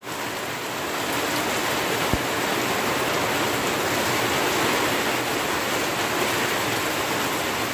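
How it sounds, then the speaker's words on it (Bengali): Heavy rain pours down steadily in a village, a dense, even hiss that stays loud and unbroken throughout with no voices over it. "কিন্তু বৃষ্টি ভালোই বেশ জোরেই নামছে"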